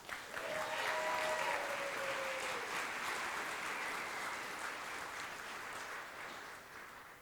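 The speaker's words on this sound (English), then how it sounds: "Can we please just give another round of applause to Roop and Catherine?" Sustained applause from an award ceremony audience, steady and full throughout, gradually easing slightly toward the end, with a faint tone or voice briefly audible early on.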